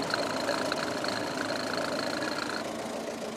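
A hand-cranked, roughly 100-year-old car engine running just after starting, a steady mid-pitched idle with a faint knocking rhythm, heard at moderate level without voices.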